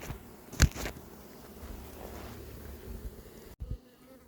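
Honeybees buzz faintly in the background, a soft droning hum with a couple of brief louder knocks or handling noises.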